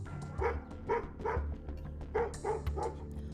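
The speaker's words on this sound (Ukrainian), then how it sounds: "Будинок Івана від журналістів охороняє величезний пес" A huge guard dog barks repeatedly outside a house, steady loud woofs coming in a regular rhythm, about six barks in a few seconds, with no talking over them.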